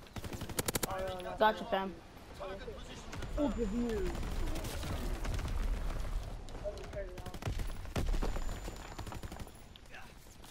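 A GPMG machine gun fires in a WW2 video game, with short rapid bursts near the start and a later burst, under a voice talking.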